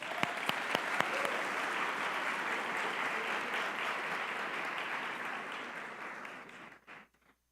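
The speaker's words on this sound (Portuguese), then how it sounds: "Uma salva de palmas." An audience at a church talk breaks into steady, dense applause that holds for about six seconds before fading out quickly at the end.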